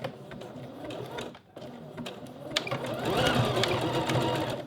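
A sewing machine stitches elastic onto fabric in a steady, close whirring run. It pauses briefly near the start, then resumes and grows a little louder, with no talk.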